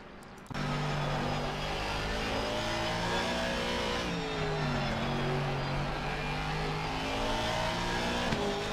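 A Ferrari race car engine in Assetto Corsa Competizione starts abruptly and holds a loud, steady droning note with rising and falling pitch shifts, heard close and alone.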